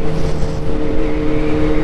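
A Kawasaki Z800 motorcycle engine drones loud and close at steady revs, a sustained buzzing hum with no talking.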